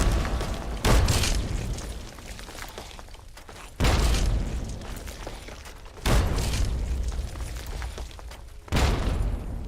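Four heavy frag grenade explosions in Fallout 3, each a loud booming blast spaced a few seconds apart with a rumbling decay between them, no talking.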